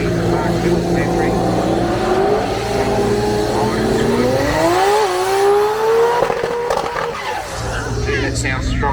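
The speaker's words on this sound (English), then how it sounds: "That sounds strong out there for Mark Mills at the 74 model Tirana." A 1974 model Torana drag car at an off-street drag meet roars loudly, its engine pitch climbing steadily as it accelerates down the strip, with a commentator's voice over it.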